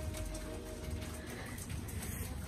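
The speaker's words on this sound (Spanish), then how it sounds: "Está lloviendo." Steady rain pours down outside a home, a dense even hiss running close and continuous throughout with no voices over it.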